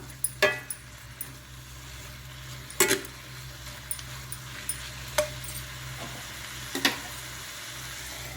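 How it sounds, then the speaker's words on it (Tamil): Marinated prawns sauté in a pan for Mangalore prawn sukka, giving a steady low sizzle punctuated by sharp metallic clinks of a stirring utensil. "கொஞ்ச நேரம் வதக்கி விட்டு மூடி போட்டு ஒரு 5-6 நிமிஷம் வேக விடலாம்"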